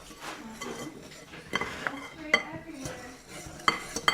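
A whisk or utensil clinks and scrapes against a bowl while dry and wet ingredients for gluten-free bagels are mixed, irregular metallic taps and rattles at close range, with faint low voices in the background.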